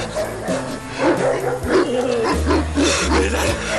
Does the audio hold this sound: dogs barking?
yes